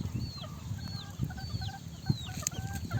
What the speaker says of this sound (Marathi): या कोंबडीनं पिल्ले काढलेली आहेत.